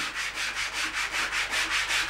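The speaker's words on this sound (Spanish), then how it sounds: "solo falta repasarlo con la lija hasta dejar fina su superficie" Sandpaper rubbing over a hand-carved wooden bowl being smoothed, a steady series of about nine rhythmic back-and-forth strokes, close and clear with no voices.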